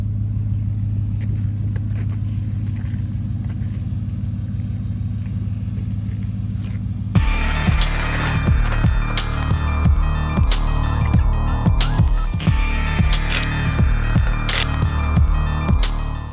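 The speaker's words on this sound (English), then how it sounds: "This here is cold start with valves open, really deep and rusty sound" An Audi RS4 B7 on its stock exhaust with cutouts before the back boxes sits idling with the valves open in a deep, steady drone, then is revved sharply and repeatedly in loud, raspy bursts.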